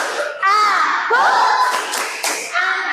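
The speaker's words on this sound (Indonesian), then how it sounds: "Coba tepuk anak soleh" Children perform the 'tepuk anak soleh' clapping chant in an Islamic classroom, with rhythmic group hand claps alongside their chanting voices, loud and close.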